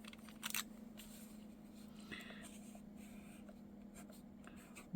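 A pen writes on paper beside watercolour mood squares, soft close scratching strokes over a quiet background hum, with a brief rustle at the start.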